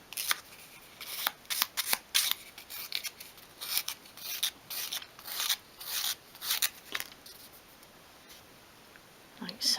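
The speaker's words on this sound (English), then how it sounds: "you're just pulling the sandpaper over the corner and just creating a slightly rounded edge" Sandpaper pulled over the corner of a small wooden piece for a 1/12 scale vegetable storage unit, rounding the edge with a series of short, close, dry rasping strokes in uneven rhythm, alone.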